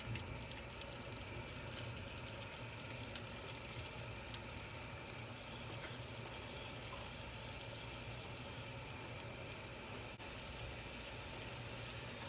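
Potstickers frying flat side down in a hot pan give a steady, even hiss of oil that holds at a moderate level throughout, with no talk.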